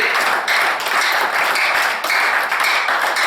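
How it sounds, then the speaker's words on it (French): Loud, dense applause from a church congregation, steady and continuous with slight swells throughout. "Si nous pouvons applaudir pour le Seigneur Jésus."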